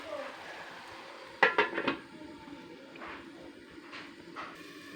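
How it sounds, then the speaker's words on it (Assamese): A metal lid settles onto a cooking pot on a home kitchen stove, giving a quick cluster of three or four bright clinks and rattles, close and clear over a low hiss. "এতিয়া মই ইয়াত 2 মিনিটৰ কাৰণে ঢাকনি দিম।"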